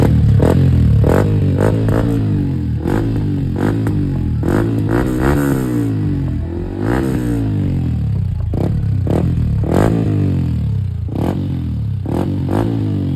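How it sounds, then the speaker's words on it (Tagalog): A motorcycle fitted with a UMA aftermarket exhaust pipe revs hard again and again up close, each throttle blip rising and falling in a loud, raspy burst with rattling clatter between revs. "napakinggan nyo naman kung gaano kaganda talaga ang tunog nitong uma na pipe"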